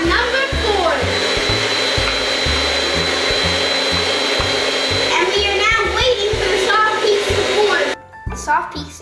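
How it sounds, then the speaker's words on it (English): An electric mixer beats on medium-high with a loud, steady motor whir and rhythmic low thumping as it churns toward soft peaks. The sound cuts off near the end, leaving a few clatters. "We beat with an electric mixer on medium-high"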